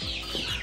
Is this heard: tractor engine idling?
no